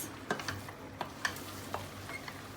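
A spoon stirs food in a cooking pot, giving scattered scraping clicks and taps over a low background hum; no one speaks.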